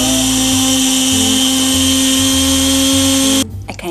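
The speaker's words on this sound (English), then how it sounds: "And then you're gonna grind it up until it's a fine powder." A loud electric grinder runs steadily, pulverising black seeds into a fine powder for black seed oil, a constant high motor whine with a coarse grinding rumble for over three seconds before it cuts off abruptly.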